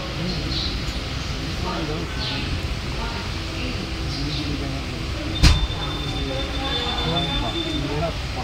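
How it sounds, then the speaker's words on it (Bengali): Constant rumbling of the moving Teesta Torsa Express heard from inside as it leaves New Jalpaiguri station, with a sharp clack midway and indistinct voices in the background. "আমাদের ট্রেন এনজিপি ছেড়ে দিল।"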